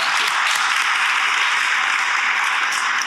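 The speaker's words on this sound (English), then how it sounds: "let's join a round of applause for David Wands" Audience at an annual commission meeting's awards and acknowledgments session breaks into loud, continuous applause, a thick sustained roar of many hands clapping close by throughout.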